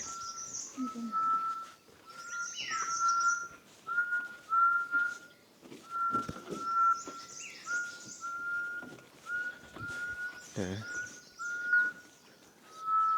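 Birds sing and whistle outdoors on Doi Inthanon, Chiang Mai, Thailand, clear repeated whistled notes mixed with chirps and trills, moderately near against quiet ambient background.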